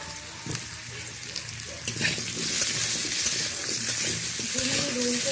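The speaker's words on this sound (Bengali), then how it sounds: "উল্টে পাল্টে ভালো করে আলুগুলো ভেজে নেব।" Potatoes fry in oil in a kadai, a steady sizzle that swells as they are turned, with scraping stirs and occasional clinks close by.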